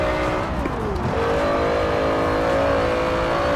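Porsche Carrera GT engine revving in Forza Horizon 4, a loud sustained high-pitched whine that rises and dips slightly before holding steady, continuous throughout.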